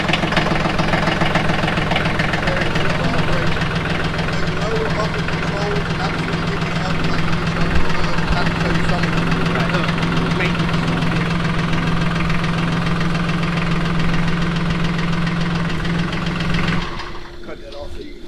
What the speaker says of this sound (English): So to start the tractor, glow plugs, of course.